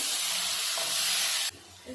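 A loud, steady hiss of ground spice paste roasting in a hot pan that drops off abruptly partway through.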